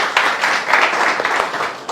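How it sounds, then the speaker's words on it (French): Audience clapping for volunteers brought on stage at a talk, a steady dense patter of many hands at moderate loudness, continuous for about two seconds with no clear pauses. "Est-ce qu'on peut applaudir pour eux rapidement?"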